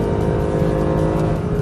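A Mercedes SLS AMG Black Series screams along a circuit straight, its engine revving hard toward 8,000 RPM. The sound is loud, close and continuous, a dense buzzing roar with no break.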